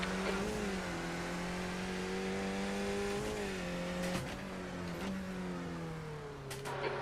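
Skip Barber race car in the iRacing simulator at VIR Grand West, its engine accelerating through gears with rising and falling pitch sweeps and brief shift breaks, steady at moderate level with no talking.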